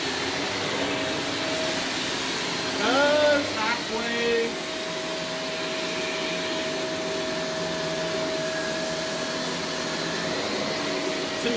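A stick vacuum cleaner runs steadily with a constant whine and airy roar, its pitch briefly shifting as the suction relief vents are adjusted, while people talk quietly over it.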